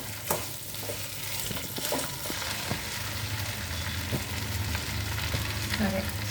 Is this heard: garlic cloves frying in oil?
yes